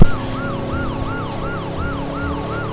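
Police car siren from the racing video game Test Drive Unlimited 2, a steady wailing up-and-down sweep repeating about every half second, loud and continuous over a low engine rumble, with no talking.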